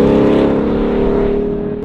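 A 2021 Ford Mustang Mach 1 V8 revving hard at high rpm, a loud, steady, close engine roar that holds its pitch then eases slightly, with no talking.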